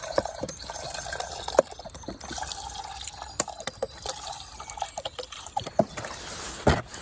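Water trickles and splashes into a pot in uneven bursts, with scattered drips and a few light clinks, close by and fairly quiet.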